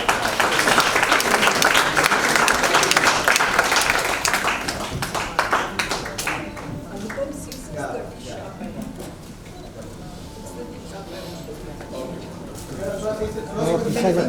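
Loud, dense applause fills a book launch hall, then thins into scattered claps while voices murmur and chatter underneath as the crowd settles.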